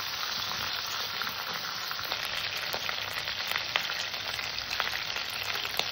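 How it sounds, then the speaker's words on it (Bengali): Ginger paste and tomato sautéing in a pan with a little salt, a continuous close sizzle with crackling pops scattered through, no talking. "আদা বাটাটাকে একটু কষে নেব যাতে ওর কাঁচা গন্ধটা না থাকে।"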